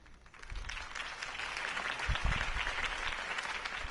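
A crowd in the video game Batman: The Telltale Series applauds a campaign speech, the clapping swelling quickly from quiet to a steady, dense roar that holds throughout.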